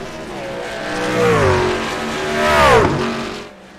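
SERL race trucks roar through a pass at Watkins Glen, engines loud and close, their pitch rising and then dropping sharply as they sweep by, with a second surge of revving near the end.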